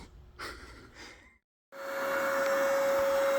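An air pump inflating one large chamber on a ski being modified: soft rustling and breathy noise, a brief pause, then a loud, steady whooshing whine of blowing air that runs on without a break.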